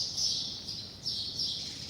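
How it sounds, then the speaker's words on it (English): A bird calls with high, buzzy chirps in two bursts separated by a short pause, fairly clear and close against a quiet background. "here comes the bird"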